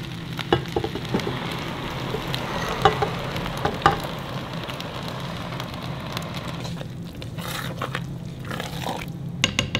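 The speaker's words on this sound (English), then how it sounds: "add the noodles back to our pan. And then going to go ahead and add in our cheese sauce" Hot macaroni noodles stirred with cheese sauce in a pan off the heat, giving a steady wet sizzle and soft scraping, with occasional louder clanks of the utensil against the pan.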